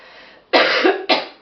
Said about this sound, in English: I'll try to edit out my two bad coughs